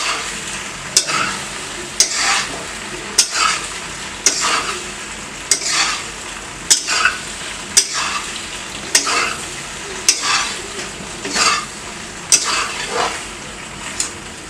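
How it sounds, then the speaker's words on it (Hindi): Chinese-style macaroni pasta stir-fried in a pan, with a utensil scraping and tossing it in a steady rhythm of strokes about every second over a constant close sizzle. "एक मिनट तक इसे अच्छे से भुनेंगे"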